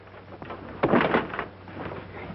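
A door in a 1941 thriller scene is worked open or shut, a short rattling clatter with a louder bang in the middle, followed by faint scraping.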